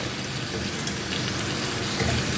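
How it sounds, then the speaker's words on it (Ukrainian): Water poured into a pan of frying chicken livers and pears, a loud continuous rushing splash with sizzling underneath, and no voices. "Тепер додаємо сюди водичку."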